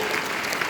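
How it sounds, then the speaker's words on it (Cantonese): A studio audience breaks into a brief burst of dense clapping during a celebrity talk show, loud and close, with no voices over it. "俾掌聲呢度，我話俾掌聲呢度。"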